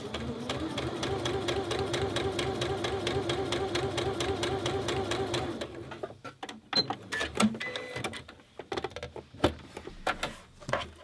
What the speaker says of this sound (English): you can just continue sewing and then just trim them all off afterwards